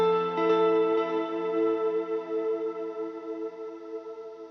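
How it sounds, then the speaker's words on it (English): Electric guitar chords ring out with added reverb, a sustained strummed chord decaying slowly into a spacious wash and a second chord blooming as the first fades. "Let's turn up the reverb in the mix just a little bit"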